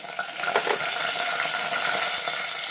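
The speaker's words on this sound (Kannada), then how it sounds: "ಇವಾಗ ಜಜ್ಜಿದ ಬೆಳ್ಳುಳ್ಳಿನ ಹಾಕ್ಕೊಳ್ಳೋಣ." Crushed garlic fries in hot oil in a pan for tomato sambar, a bright, dense sizzle close by with a few light stirring scrapes against the pan.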